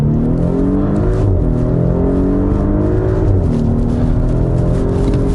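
A 2018 Audi SQ5 launches hard from a standstill, its turbocharged engine roaring loudly and climbing steadily through the revs, with a brief dip at a gear change, heard from inside the cabin.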